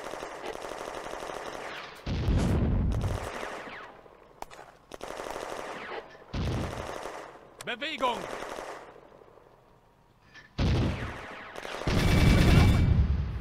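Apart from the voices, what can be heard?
Soviet mortar and gunfire in Firefight video game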